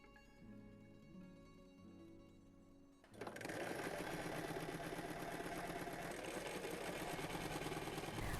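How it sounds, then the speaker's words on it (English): A sewing machine stitches two fabric panels together right sides facing, starting abruptly after about three seconds of quieter room sound and then running steadily and loudly to the end. "we're going to sew together, right sides together, our panels"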